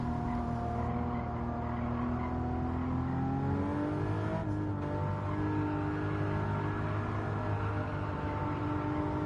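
A Toyota GR Supra's engine drones steadily and loud as the car is driven through corners, its pitch rising and sagging with throttle, with a brief lift midway before pulling again.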